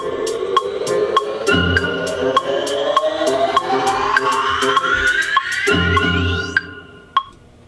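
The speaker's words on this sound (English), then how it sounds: "And I also have a kind of riser that I wanted to use here" A rising synth riser sweeps steadily upward in pitch over several seconds in a music production session, layered over a repeating beat with clicky percussion, then cuts off near the end, leaving a couple of isolated hits.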